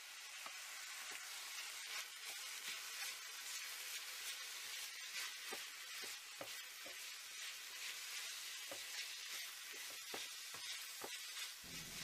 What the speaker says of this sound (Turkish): 1-5 dakikada kıyma ile birlikte kavuruyoruz